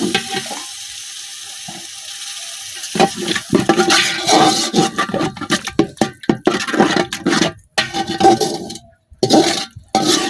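A little water hits a hot pan of curry spiced with garam masala and bursts into a loud, crackling sizzle after a quiet opening. Hissing and spattering surge unevenly for several seconds, with brief gaps.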